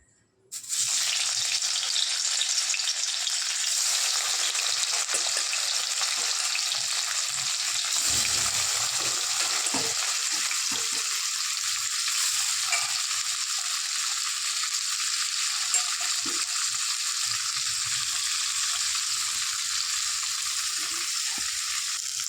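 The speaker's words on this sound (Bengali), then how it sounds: "কড়াই বসিয়ে দিয়েছি, তেল দিয়ে দিয়েছি। এবার পনিরটা ভেজে নেব।" Paneer sizzles in hot oil in a kadai, a loud, steady, close frying hiss that runs unbroken for about twenty seconds, with faint clicks of stirring.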